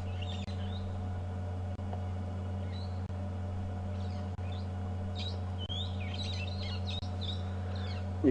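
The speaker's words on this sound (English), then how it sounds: "You can still hear the parrots making a real racket" Parrots in the African bush at sunset give scattered shrill chirps and squawks at a moderate distance over a steady low vehicle hum, with faint regular clicks and no talk.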